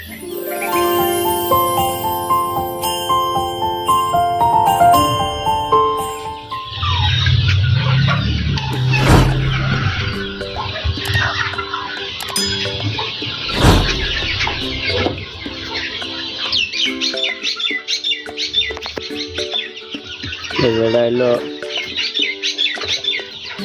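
Native free-range chickens cluck and squawk close by in a farm enclosure, with irregular calls over several seconds following a brief musical opening.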